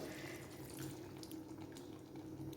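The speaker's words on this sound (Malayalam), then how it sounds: "നമുക്ക് തേങ്ങാപ്പാൽ ഒഴിച്ചു കൊടുക്കാം" Coconut milk pours into a pot of chicken with a steady, soft, continuous liquid splashing rush, faint and close.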